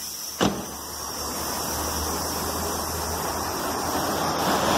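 On a VW Golf MK4 fitted with air suspension, a sharp click is followed by a steady, rising hiss of air venting as the car lowers.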